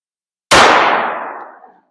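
A single sharp gunshot from a 5.7x28 handgun fired into a ballistic gel block, 27 grain round, a loud close crack with a ringing decay fading over about a second.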